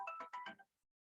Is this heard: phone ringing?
yes